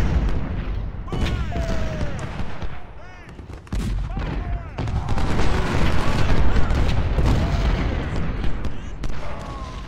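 Cannon and artillery volleys boom repeatedly in a Civil War battle in the strategy game Ultimate General: Civil War, loud bursts rolling over each other amid battlefield noise, with someone talking over the gunfire.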